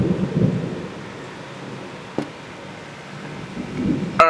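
Thunderstorm in southeastern Pennsylvania with close lightning strikes: low rumbling thunder swells at the start and again near the end, with a sharp crack midway and a loud snap at the close over steady rain.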